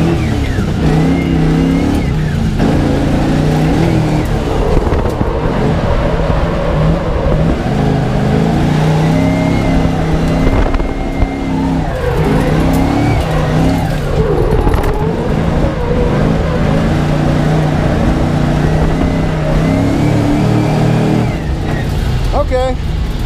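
An LS1-swapped Nissan 240sx drift car on a warm-up run, its V8 droning loud and close from inside the cabin with rising and falling revs, while the driver talks over it.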